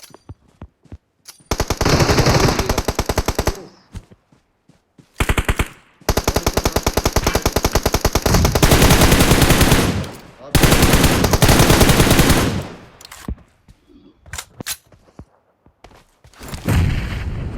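Gunfire from the PUBG Mobile video game plays in loud, sustained automatic bursts that are several seconds long, separated by brief quiet gaps and followed by a few scattered single shots.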